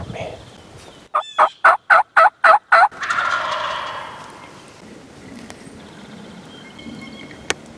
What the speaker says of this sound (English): I just had a Tom shot gobble at a crow not very far from me